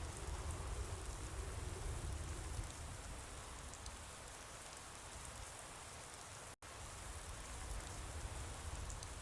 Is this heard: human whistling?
no